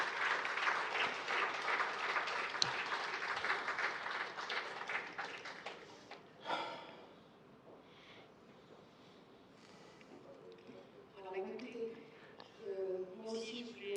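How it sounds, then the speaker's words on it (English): Applause from a colloquium audience, a dense burst of clapping lasting about six seconds that then dies away, followed by quieter room sounds and a speaker talking. "so a round of applause for them."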